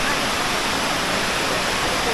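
Broadband rushing roar of a waterfall at Cascada Juan Curi near San Gil, a steady unbroken wash of falling water close by, with a faint murmur of voices beneath it.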